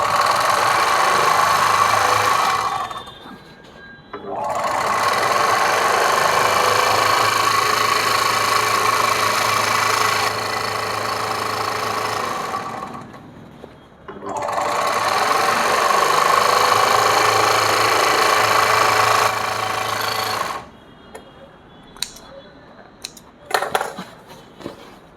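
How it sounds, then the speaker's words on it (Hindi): An overlock machine with a newly fitted cutter blade stitches and trims denim fabric, running loud and steady in two long bursts of roughly seven seconds each with brief pauses between, then stops, leaving faint handling clicks. "कटर अच्छी तरह से लगाने के बाद मशीन कपड़ा कैसे काटती है"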